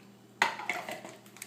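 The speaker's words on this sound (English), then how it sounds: "I'm going to slap this lid on and put this on the blender" A plastic lid is snapped onto a blender jar and the jar set onto the blender base while making a carrot cake shake: a sharp clack followed by several lighter knocks and rattles, close and clear, with no talking.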